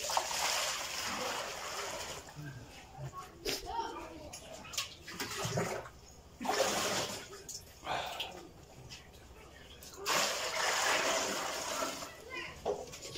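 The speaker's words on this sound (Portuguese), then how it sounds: "Vamos lá começar primeiro a meter água aqui nas panas." Water is poured into pans to thaw frozen pipes, giving a splashing, gushing rush in uneven bursts, with voices nearby.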